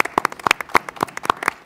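Scattered applause from a small audience at a school board meeting, honoring a state-champion high school marching band; a handful of distinct, fairly close claps in an uneven patter lasting under two seconds.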